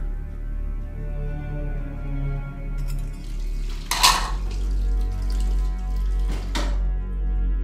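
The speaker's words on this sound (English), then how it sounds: "I am still washing the dishes." Dishes, pots and pans washed under running water in a kitchen: a steady tap flow with clinking and clattering of utensils, including a couple of sharper knocks, heard close up.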